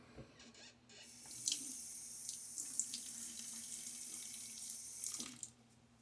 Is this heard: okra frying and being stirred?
no